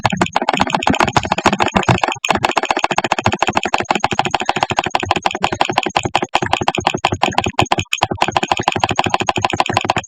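A computer mouse clicks in rapid, dense bursts while adding creatures in an ecosystem simulation, the sharp, close taps running almost nonstop with only a few short pauses.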